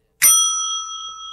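An old, dusty hand bell from the 80s is struck once, giving a bright sharp ding that rings on with a clear, slowly fading metallic tone, close up and alone.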